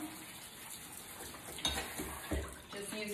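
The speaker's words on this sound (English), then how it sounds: "just using the kitchen sprayer on my kitchen sink" A kitchen sink sprayer rinses salad greens for a Thai salad, giving a steady hissing rush of water close by with a few splashy surges.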